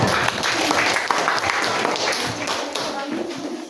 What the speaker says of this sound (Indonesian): tepuk tangan lah untuk kelompok kita.